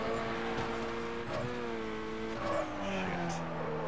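Tires squealing in a sustained, wavering drone as a car drifts through a canyon course in Need for Speed: Carbon, steady engine tone underneath, loud and continuous with shifting pitch.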